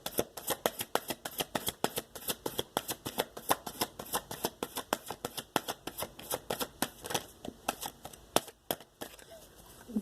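Goddess Oracle cards riffled and shuffled by hand in a quick, steady run of crisp flutters and taps, close and fairly quiet, lasting the whole stretch.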